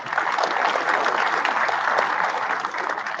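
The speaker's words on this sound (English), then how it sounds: "Another round of applause for Sarah." A conference audience at DevOpsDays Raleigh 2023 claps in sustained, even applause, a dense crowd of hands filling the room at a steady level throughout.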